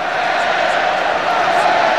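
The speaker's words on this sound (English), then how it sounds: "Crowd trying to get behind the Wales" Rugby union crowd at Wales versus New Zealand in 2005 roaring in support of Wales, a dense sustained stadium roar of cheering heard under a commentator's voice.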